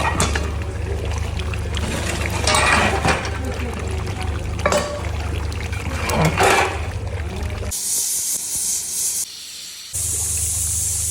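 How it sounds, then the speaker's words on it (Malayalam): Beef curry bubbling in a pressure cooker with salt, turmeric and water, a steady broadband hiss and simmer that cuts out briefly near the end before resuming. "ബീഫ് ഇതാ തിളച്ച് വന്നു തുടങ്ങിയിട്ടുണ്ട്"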